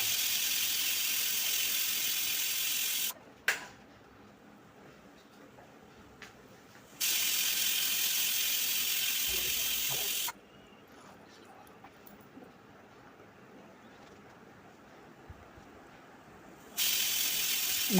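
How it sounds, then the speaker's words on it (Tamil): A pressure cooker cooking green gram releases steam after four whistles, a loud hiss in bursts that stop and restart, with quieter pauses between them. "இப்போது 4 விசில் வந்துருச்சு."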